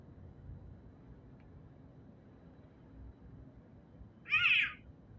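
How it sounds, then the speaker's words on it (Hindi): A single short cat meow rises near the end, clear and fairly close, after several seconds of quiet low background hum. "कैट का, सिंपली बिल्ली का आपका आवाज़ सुनना है"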